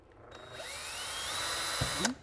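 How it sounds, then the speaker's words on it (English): A handheld power drill whirs steadily while boring holes, running continuously for about two seconds before stopping, with a short low thump near the end and no talking. "You just drill some holes"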